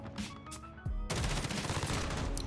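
Rapid automatic fire from an M13 rifle in the Modern Warfare video game, a sudden loud burst of close, fast gunshots following quieter in-game sounds and continuing to the end.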